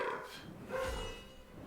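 Dogs bark in a single excited burst, loud and close, with some growling grit underneath, heard amid the din of a fantasy game battle.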